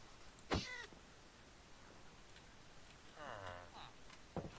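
A cat meows in a Minecraft single-player game: two short, high meows spaced apart, followed by a brief chirp near the end, heard fairly close over a quiet background.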